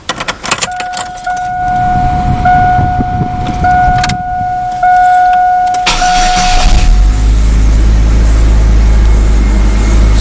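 Keys jangle, then a 2001 Chevy S10 pickup truck engine cranks and catches, settling into a steady low idle close by.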